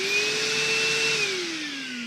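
Small bargain workshop HEPA vacuum running on its normal suction setting, a steady close whine and rushing airflow that holds level, then its tone drops slightly toward the end.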